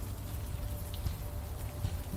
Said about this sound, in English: we just like the rain